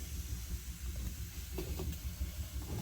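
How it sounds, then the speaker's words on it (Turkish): Soft, steady hiss and faint bubbling of water coming to a boil in a pot on a wood-burning kitchen stove, quiet and continuous with no talk. "Suyumuz kaynadı."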